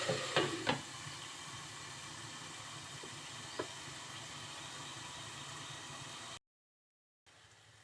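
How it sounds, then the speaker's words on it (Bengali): Small potato bhaji being stirred and turned in a frying pan, a steady soft sizzle with a few scraping clicks early on, then a short silence before the frying noise returns. "ভাজিটা উল্টিয়ে পাল্টিয়ে নাড়াচাড়া করে খুব অল্প সময়ের জন্য একটু ঢেকে দিচ্ছি"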